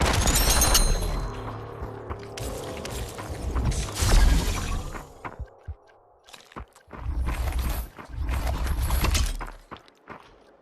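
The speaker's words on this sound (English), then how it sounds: "Crazy firing." Gunfire in the VR shooter Population One: loud, rapid bursts of shots in several clusters with short pauses between them, close and dominant, no talking.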